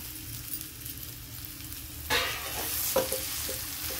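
Mashed boiled potato dropped into a hot pan for bread pakoda filling, a quiet background hiss that jumps into a loud, bright sizzle at contact, followed by a few stirring scrapes, close up.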